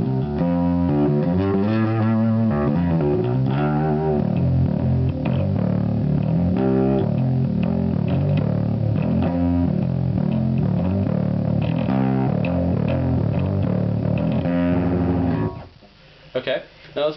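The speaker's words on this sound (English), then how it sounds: "what you get is a little bit more of that high-end glitchness of the distortion" An active Stingray bass played through an OX fuzz pedal growls with thick, gritty distortion, a steady loud run of notes that cuts off near the end with a few crackles.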